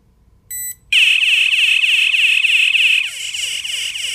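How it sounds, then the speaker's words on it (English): A ProLogic duress module alarm sounds after a brief short beep: a loud, continuous warbling electronic tone with a fast repeating up-down sweep, steady for about two seconds and then slightly quieter and rougher until the end. "when it finally reaches 1 minute, this alarm will sound"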